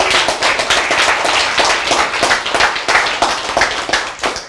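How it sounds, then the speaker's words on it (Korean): An audience claps together during a sermon-style lecture, a dense, loud run of hand claps filling the whole stretch without pause. "박수!"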